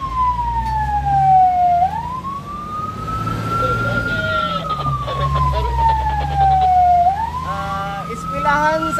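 Fire engine siren wailing as the truck responds to a fire alarm in Cebu City, a loud rising and falling tone sweeping up and down over a rumbling engine, close by and continuous.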